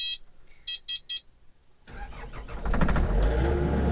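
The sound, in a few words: Kubota KX-080-4 excavator engine starting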